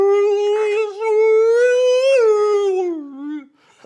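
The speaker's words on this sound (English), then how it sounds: "It's like a whale sound." A long, drawn-out tonal cry like a whale call, rising slightly and then sliding down before fading, sounding close and clear over near silence, with a brief second swell in the middle.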